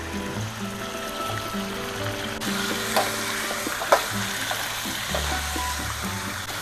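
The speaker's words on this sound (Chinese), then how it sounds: "给它炒香啊！" Chili bean paste stir-fries in a wok, a soft continuous sizzle with scraping stir strokes and a couple of sharp clanks from the spatula, no talking.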